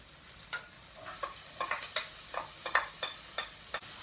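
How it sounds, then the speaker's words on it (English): Onions and green pepper sizzle faintly in a pan while a wooden spoon stirs them, giving about ten soft scraping knocks in an uneven rhythm over a steady low frying hiss. "I'm just using a wooden spoon to mix."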